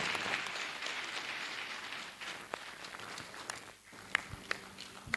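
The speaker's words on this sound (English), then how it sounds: "I think another round of applause will not be too much." Faint applause from a conference audience rises briefly and then dies away, leaving scattered individual claps and a few soft thumps, like shuffling or footsteps, in a quiet hall.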